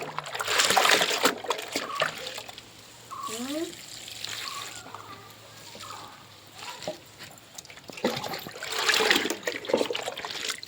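Cow dung water poured onto potted plants, including an adenium, in uneven splashing and trickling bursts, loud at the start and end, with a voice talking in between.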